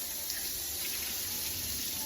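Tap water runs steadily while a small dog is bathed indoors, an even continuous splashing stream at moderate level that stays unchanged throughout, with no voices.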